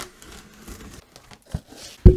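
Cardboard box fastened with staples being cut open for a welder unboxing, giving scattered tearing and crinkling scrapes followed by two sharp, louder rips near the end, close up with no talk.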